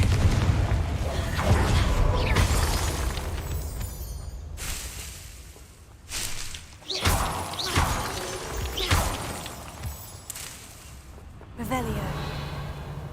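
Confringo blasting spell going off in a wizard video game: several heavy booming blasts with crackling debris spread over the stretch, mixed with game sounds and some speech.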